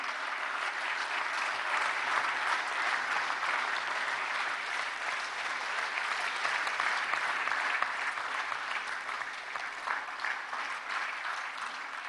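An audience at a Vigilance Awareness Week event at Vigyan Bhawan, New Delhi, claps steadily for over ten seconds, a dense, even patter of many hands with no speech over it.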